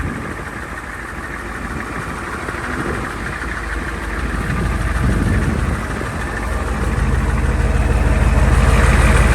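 A 1973 7.3L diesel truck engine idles with a steady low rumble and rattling knock, gradually growing louder and heavier, with no talking.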